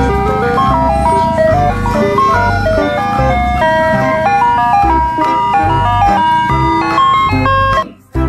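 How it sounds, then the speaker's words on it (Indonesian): A toy ice cream truck plays its loud, bright electronic jingle, a looping melody over a pulsing bass, close by, ending with a brief cutoff. "lihat di sini ada mobil es krim"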